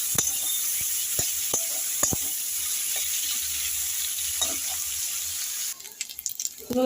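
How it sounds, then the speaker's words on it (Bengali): Prawns frying in hot oil in a pan during cooking of a Bengali kohlrabi dish, a steady close sizzle with occasional light stirring taps, the texture shifting toward the end. "চিংড়ি মাছগুলো আমি এইভাবে ভাজা করছি"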